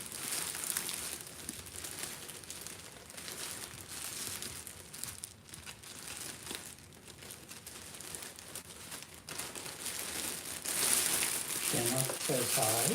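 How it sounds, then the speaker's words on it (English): Ribbon being tied around a Dollar Tree gift basket wrapped in plastic, with steady close crinkling and rustling of the cellophane, a quiet voice briefly audible near the end. "And tie my ribbon around."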